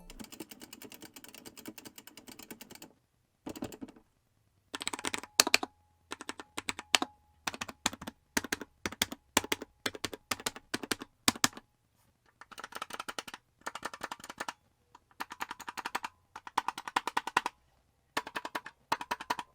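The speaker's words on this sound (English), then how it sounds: "here's an overall sound test of the joystick, the WASD keys, the Sanwa buttons, and the function buttons" An arcade stick's joystick, WASD keys, Sanwa buttons and function buttons are pressed in rapid bursts of sharp, close plastic clicks with brief pauses between runs, and no voices.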